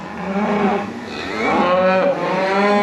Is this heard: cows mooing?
yes